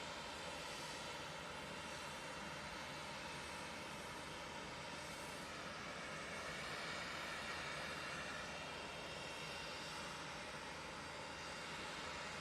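Cessna Citation XLS business jet at Manchester Airport, its engines producing a steady, faint, broadband whine and rumble heard from a distance without talk.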